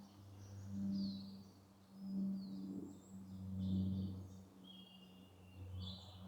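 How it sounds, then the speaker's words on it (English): Scattered bird calls and chirps sound faintly at a distance over a low steady hum, with no voices present. "Just sitting out here, listening to these birds."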